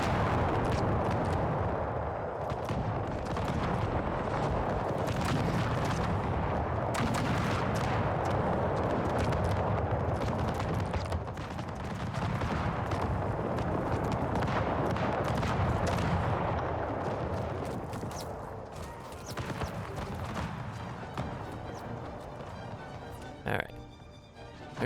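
Musket volleys crackle and boom across an Empire Total War mod battle near Berlin in 1758, dense overlapping gunfire and heavy thumps rolling continuously, with someone talking over the din before it thins near the end.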